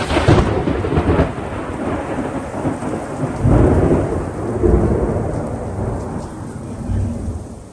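Loud rolling thunder rumbles through a strong summer thunderstorm with steady heavy rain, swelling in several deep surges over the constant downpour.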